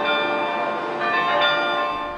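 Carillon bells ring out from a church bell tower, sustained tones overlapping as a carillonneur plays, loud and resonant throughout.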